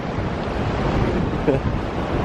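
Sea waves wash onto the shore in a steady broadband rush, mixed with wind buffeting the microphone, loud and close, with a brief splash or bump midway and faint voice sounds underneath.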